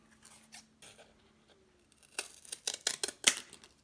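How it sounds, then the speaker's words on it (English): Scissors cutting through cardboard for a homemade shoe rack: a few quiet handling sounds, then a cluster of sharp, close snipping crunches in quick succession. "And mark this end and cut it."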